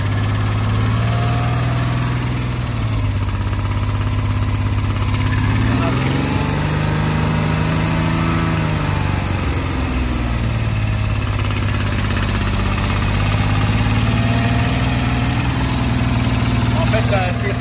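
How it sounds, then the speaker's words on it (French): A BMW M3 E36 engine idles high and loud just after starting, a steady close drone whose pitch rises and dips for a few seconds midway, with voices occasionally talking over it. "Le ralenti est haut parce qu'on pense que l'actuateur de ralenti fait un peu trop le bordel."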